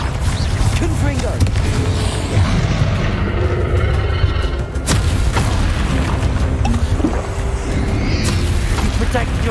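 Confringo spell explosions in Hogwarts Legacy as a booming, rumbling blast bed that runs steadily under frequent spoken voices, with crackling bursts throughout.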